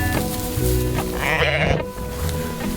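Sheep bleat repeatedly on a winter off-grid homestead as hay is thrown for them, against a steady background hum, the calls loud and close, overlapping in a wavering chorus.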